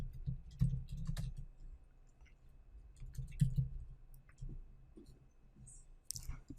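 Keys clicking and tapping on a computer keyboard as shortcuts are entered, a few soft bursts of keystrokes spread over several seconds, fairly quiet with no talking.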